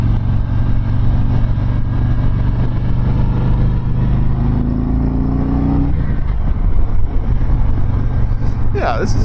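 A 2019 Road Glide motorcycle being ridden, its engine a steady, loud low drone with wind rush, a rising tone swelling mid-ride before settling back to cruising rumble.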